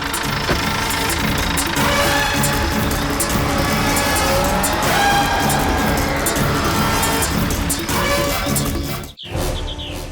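A car pulls away hard with tires squealing over a loud engine roar, the squeal and revving sustained for several seconds before cutting off abruptly.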